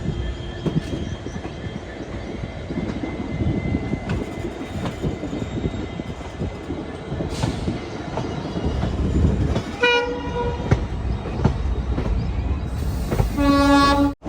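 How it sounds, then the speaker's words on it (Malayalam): Sri Ganganagar Intercity Express passing near a hillside station, a loud steady rumble of wagons with clattering wheels, then sharp horn blasts near the end. "Sri Ganganagar intercity express"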